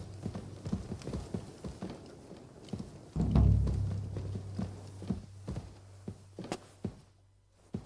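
Horse hooves clip-clop at a walking pace in the medieval video game Kingdom Come: Deliverance II, a steady run of soft, close thuds with a heavier thump partway through.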